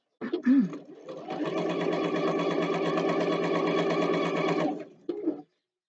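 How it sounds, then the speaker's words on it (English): A sewing machine stitches a fabric scrunchie in one steady, continuous run of about four seconds, loud and close, with brief handling sounds at the start and end. "So as we're sewing"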